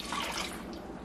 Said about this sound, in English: I'm gonna put a little milk in there, about halfway, a half a can